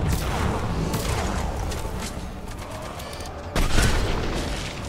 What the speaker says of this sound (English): I'm gonna use my sniper on that thing.